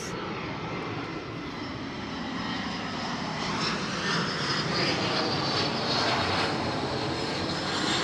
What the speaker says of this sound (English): And you could hear those planes.